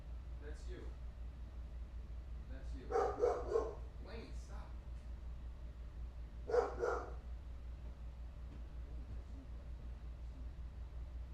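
A couple of dogs roaming a house give short clusters of barks and yips, faint and somewhat distant indoors over a constant low air-conditioning hum, with voices talking now and then.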